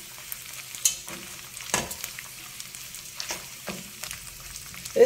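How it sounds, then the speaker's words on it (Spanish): Cinnamon and spices toast in a pan over low heat, giving a soft, close sizzle broken by light scraping and stirring knocks, with no talking. "La canela la tosté y después de unos minutos añadimos los condimentos."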